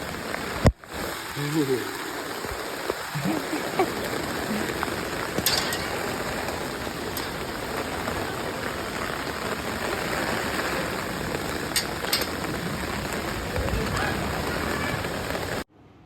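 Steady, dense hiss of heavy rain pours throughout, with a brief voice and a clunk near the start and occasional sharp ticks.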